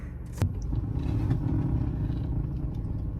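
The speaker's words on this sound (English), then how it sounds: "something's scraping pretty loud" A car with an odd gear shifter, just put into reverse, gives off a steady low rumble. A metal part scrapes against the wheel rim in a continuous grinding drone, close and fairly loud, after a brief clack at the start.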